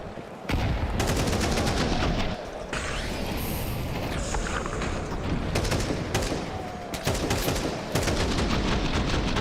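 Rapid rifle bursts and single shots crack through a Counter-Strike esports match at IEM Cologne, loud overlapping gunfire in dense volleys with brief gaps, plus explosive swells of game effects.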